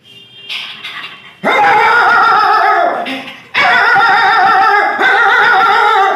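A voice mimics a dog barking while running after a passing four-wheeler, giving loud, close, drawn-out yelping barks in several bursts after a softer opening.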